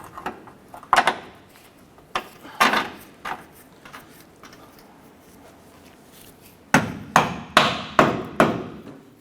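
A rubber mallet knocks a front lower control arm into place on a 2008-2012 Honda Accord: scattered single thumps at first, then a quick run of five or six firm, evenly spaced blows, close and loud with no talking.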